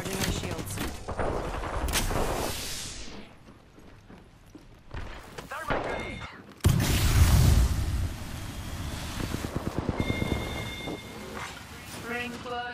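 Gunfire in a battle-royale style video game, with sharp bursts and crackling shots scattered across the clip, some loud and close, others fainter, mixed with game effects.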